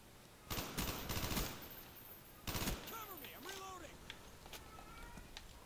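Two short bursts of rapid gunfire from an AUG rifle in Black Ops 1 crackle on a game soundtrack, separated by a pause, with faint footsteps and other game effects in between.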